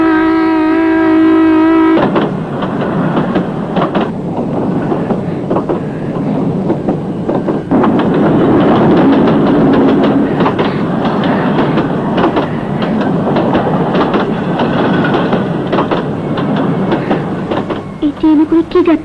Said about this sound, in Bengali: এই ট্রেনে করে কে যাচ্ছে?